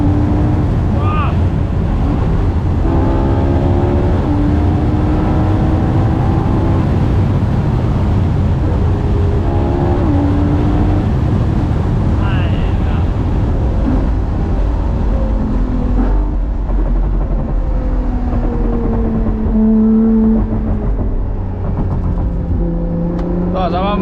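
A Ferrari LaFerrari Aperta engine roars continuously under hard acceleration, pitch climbing through rising gear sweeps and dropping at shifts, loud and close with wind rush, while people talk excitedly over it.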